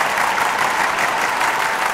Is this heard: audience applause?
yes